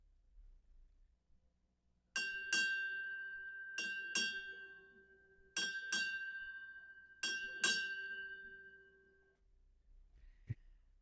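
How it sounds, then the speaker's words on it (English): Four close pairs of clear ship's bell strikes, eight rings in all, sound in a steady two-by-two rhythm at a Navy birthday ceremony, each ringing out and decaying over a quiet room. "May I have 8 bells, shipmate?"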